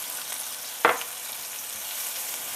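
Garlic dropped into a pan of leftover fish-frying oil with sautéed onions for ginataang tilapia, a single sharp hiss and clatter as it lands, then a soft, steady sizzle close by with no talk.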